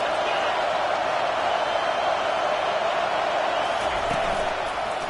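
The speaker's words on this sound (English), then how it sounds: "Big third down as the crowd gets behind this defense." Football stadium crowd during a college game between Illinois and Michigan, a steady loud roar of cheering for the defense on third down, continuous and broad with no pauses, crowd noise filling the whole stretch.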